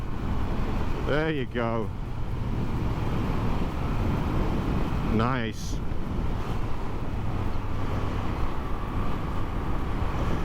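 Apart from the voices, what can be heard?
V7 motorcycle engine running with stock exhaust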